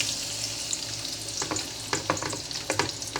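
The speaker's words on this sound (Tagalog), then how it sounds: "Ito na po, umpisa na po natin magisa. Ito po, sibuyas." Onion sautéing in a pan for a chicken dish, a close, continuous sizzle with a few crackling bursts and spatula scrapes as it is stirred, without any speech.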